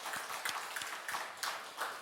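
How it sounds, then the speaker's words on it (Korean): Congregation applauding at a church new-year special dawn prayer meeting, a steady wash of hand claps sustained for about two seconds at moderate level with no talk over it. "우리를 축복해 주신 하나님께 영광의 박수 한번 올려드리겠습니다."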